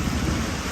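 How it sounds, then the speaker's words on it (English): Heavy rain pours steadily during a thunderstorm with a tornado approaching, a dense, loud roar of falling water with a low rumble of thunder underneath, brief and continuous with no voices. "it's raining, thundering, lightning"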